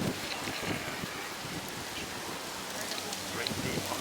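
Wind gusts across a beach at Magic Island in Waikiki, Honolulu, during an outdoor wedding, a broad steady rushing roar buffeting the microphone that blankets everything, with faint voices underneath.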